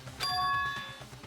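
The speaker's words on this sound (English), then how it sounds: "What you just heard was the body discovery announcement." The body discovery announcement chime from the Danganronpa video game plays, a brief bright bell-like ding with sustained ringing tones that fade within about a second, fairly quiet and alone.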